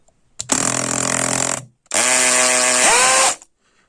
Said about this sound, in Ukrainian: З прокручуванням удар. Це не перфоратор, це просто удар на дрель